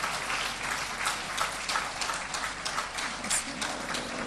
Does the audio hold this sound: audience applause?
yes